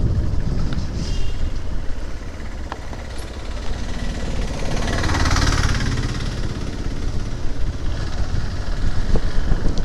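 A vehicle engine droning while travelling at speed on a road, its steady rumble mixed with heavy wind buffeting against the microphone, rising and falling slightly over ten seconds.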